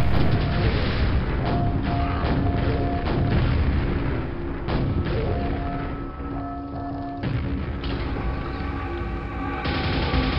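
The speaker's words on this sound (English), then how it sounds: "I have a rocket launcher. I should use it." Rocket launcher explosions in the Quake-engine game Dwell, a dense run of loud booms and blasts rolling one after another over a steady game backdrop.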